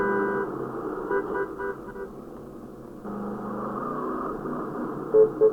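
Car engine driving in GTA San Andreas, a steady low rumble running throughout with a shift partway, plus two short honk-like blips near the end, no talk.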